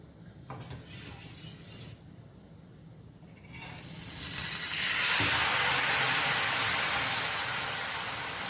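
Rice flour ghavne crepe batter sizzling in a hot pan on a high gas flame, starting as a quiet low crackle, then swelling into a loud, steady, close hiss that holds to the end.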